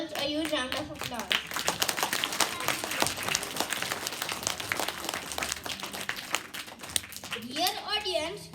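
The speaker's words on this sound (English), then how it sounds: "Everyone, please give these cute girls a huge round of applause." An audience at a school assembly claps in a steady burst of applause for young girls while voices, including children's, talk over it; the clapping swells again near the end.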